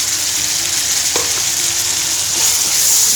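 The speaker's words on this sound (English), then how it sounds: "So we'll just leave this to stir fry on its own for about 2 to 3 minutes time before we insert the rice." Mutton with black and white pepper powder stir-frying in a hot pan for fried rice: a loud, steady, close sizzle runs throughout, with a faint scrape or two.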